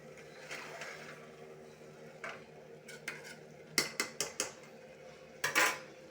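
Kitchen utensils and vessels are picked up and put away while liver curry fries, with a run of sharp metallic clinks and clatters growing denser toward the end over a faint frying hiss.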